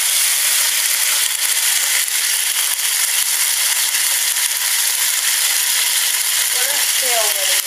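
Chicken frying in hot oil on a stove, a steady loud sizzle with spitting crackles throughout, some faint tonal noises near the end.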